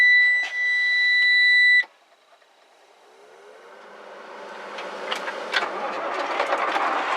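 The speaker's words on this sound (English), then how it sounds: "we start the engine" Truck engine cranking and catching after a steady in-cab warning beep cuts off, then settling into a rising, rumbling idle that grows louder and fills the cab.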